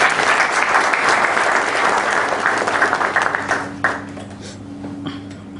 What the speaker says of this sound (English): Friends, there is a big round of applause.